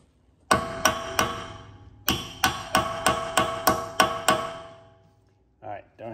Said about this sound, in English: take a hammer, hold this in here, and give it several good whacks.